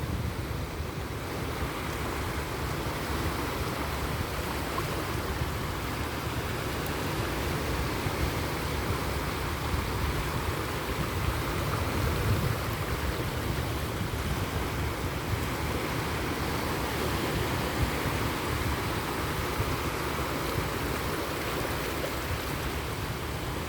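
Evening sea waves breaking on a Hong Kong shore, a steady, continuous wash of surf that rolls on without pause at an even loudness throughout.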